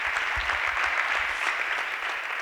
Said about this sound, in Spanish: Arantxa, un fuerte aplauso para ti